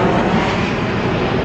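An airplane passes near LAX airport, a loud, steady broadband engine roar that fills the whole moment with no voices.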